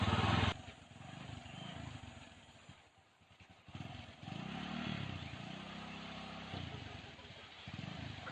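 A motorbike engine runs on a farm, a close, rough idle with rising and falling revs and rattling clatter throughout, and voices underneath.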